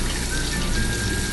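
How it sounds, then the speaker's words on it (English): Cloudy rinse water pouring off washed rice in a bowl while making onigiri, a continuous close splashing and trickling with no talking. "drain the water"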